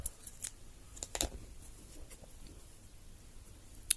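Scissors snip through crochet yarn with a few faint, quick clicks and a small metallic snip near the start, close and quiet against a hushed background.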